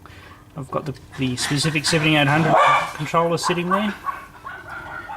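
Several dogs bark and yip repeatedly in a house, close and loud, in quick bursts that overlap someone talking.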